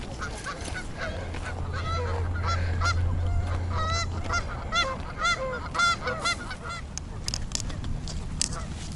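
Many geese honk repeatedly in a loud, overlapping chorus, calls coming in bursts over steady outdoor background noise.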